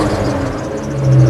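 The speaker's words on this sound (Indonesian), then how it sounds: "Banter itu suaranya knalpotnya" The exhaust of a 1994 Jeep Cherokee Limited with a 4.0 engine gives a brief, loud, deep rumble up close, swelling slightly toward the end.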